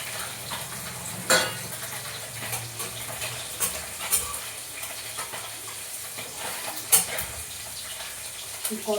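Puti fish frying in a pan of hot oil, a soft, fairly faint crackle and sizzle with a few sharper pops and scrapes scattered through, no talk.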